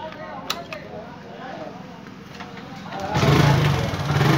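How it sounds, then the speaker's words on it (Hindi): A motorcycle with a dead battery cranks and catches, then settles into a loud, steady idle close by after a stretch of someone talking over quiet background sounds. "देखिए, आपकी बाइक चालू हो गई"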